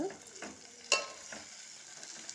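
Stirring tomato and capsicum curry in a pan: soft scraping strokes over a low frying sizzle, with one sharper spoon knock against the pan partway through.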